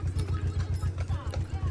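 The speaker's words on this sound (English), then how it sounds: "I love this horse." A horse's hooves clip-clop in a steady, even rhythm, a low repeating thud beneath people talking.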